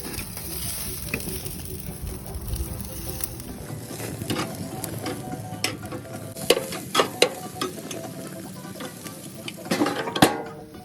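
Honey garlic chicken wings frying and sizzling in a pan, a steady hiss with scattered sharper pops and scraping stir sounds toward the end, close and moderately loud, no talking.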